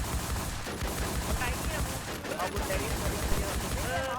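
Rapid gunfire bursts from a video game, busy and continuous at a steady loud level, mixed with game effects and overlapping voices.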